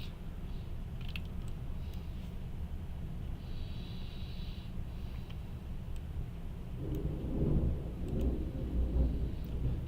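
Thunder from a nearby lightning strike during a morning storm, heard from a courthouse cellar: a continuous low, heavy rumble that swells louder toward the end, with no voices over it.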